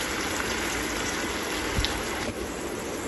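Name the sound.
water poured into pan of tomatoes on medium flame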